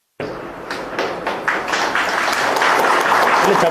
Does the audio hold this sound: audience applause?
yes